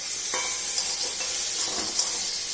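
Hiss of water hitting hot spice masala frying in a pan, for a hilsa fish curry with aubergine and potato; a steady close sizzle with stirring scrapes runs throughout, with no talking.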